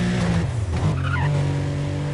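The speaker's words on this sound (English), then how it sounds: "A very loud, noisy Porsche." A loud, noisy Porsche in the racing game Need for Speed World gives a close, steady engine drone with a brief tire skid or squeal near the start, with no talking.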